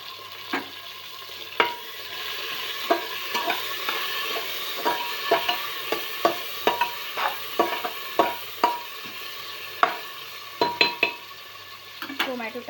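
Tomatoes go into a pan of onion, ginger, garlic, cumin and bay leaf frying for masale bhat, a steady sizzle with repeated sharp clinks of a spoon scraping and stirring against the pan throughout.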